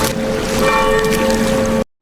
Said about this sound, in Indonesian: Ketika lonceng berbunyi